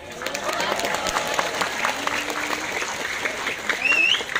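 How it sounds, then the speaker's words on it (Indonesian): An audience at a religious lecture for the Prophet's birthday claps in a steady burst of applause, moderately loud and continuous for a few seconds, with a whistle near the end. "Tepuk tangan semuanya"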